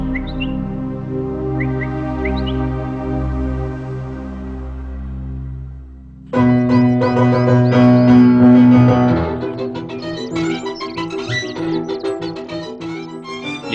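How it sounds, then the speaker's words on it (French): Birds call and sing in high, quick chirps over a low tonal hum, then a dense burst of overlapping song and twitters takes over and continues to the end. "Le langage d'appel des oiseaux et leur chant."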